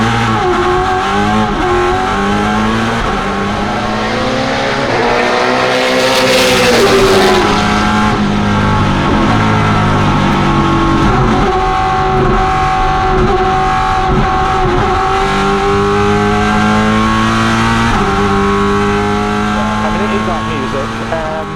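A loud, high-revving R32 Nissan Skyline GTR four-wheel-drive race car engine roars continuously at Goodwood, with rising and falling pitch as it accelerates and shifts, and a voice occasionally speaking over it.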